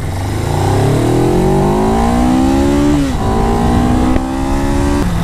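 A Suzuki GS500E motorcycle accelerates hard from standstill to 100 km/h, its engine note climbing through the revs in loud rising sweeps with gear changes near three and five seconds.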